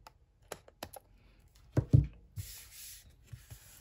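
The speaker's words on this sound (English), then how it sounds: "So I'm just cutting along the edge of that gold foiled paper." Scissors cutting along the edge of gold foiled paper during paper crafting, a series of close, crisp snips and rustles with a brief louder crunch in the middle.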